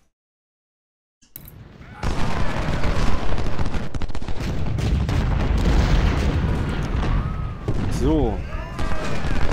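Civil War cannon fire booms repeatedly in Ultimate General: Civil War after a silent start, heavy loud blasts and crackling volleys in a busy battle mix with a brief spoken word.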